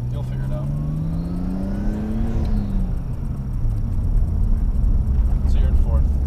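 Nissan R32 Skyline engine droning steadily while driving, its pitch rising then falling with shifts, loud and close inside the car with road rumble beneath; people talk over it.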